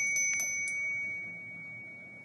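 A small drum bell rings a few quick bright strikes near the start, then a single high tone lingers and fades over the next couple of seconds, alone with no talk.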